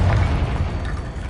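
Confringo fire spell blast in Hogwarts Legacy, a loud continuous booming explosion with deep rumbling low end and crackling debris, sustained without pause, no voices.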